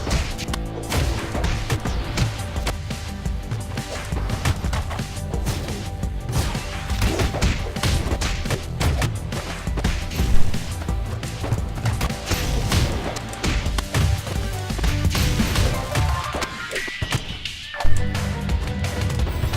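Fighting-game combo hits from Them's Fighting Herds: a fast flurry of thuds, whacks and whooshes layered over energetic in-game music, with a couple of heavier impacts standing out, loud and busy throughout.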